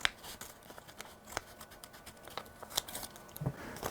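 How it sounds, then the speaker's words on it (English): Scissors cut through a paper envelope during a rope magic trick, making a series of faint, sharp snips and crinkles at irregular intervals, close up and with no talk. "I'm going to take my scissors and I'm going to see if I can cut"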